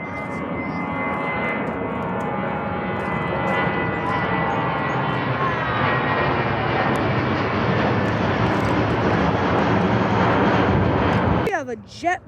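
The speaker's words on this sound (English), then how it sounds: "United 592 going to Newark. It's an A319." A United Airlines Airbus A319 bound for Newark passes at Boston Logan Airport, a loud, steady jet roar that holds for about eleven seconds before cutting off abruptly.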